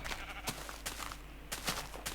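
Sheep bleating in the Minecraft video game, a few short broadband bleats spaced through the clip over a steady low game hum, moderately close.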